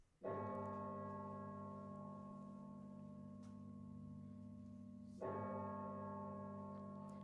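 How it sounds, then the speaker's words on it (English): A deep clock bell tolls twice, each strike ringing out with a long, humming resonance that slowly fades, heard alone and fairly distant. "The bell struck 12."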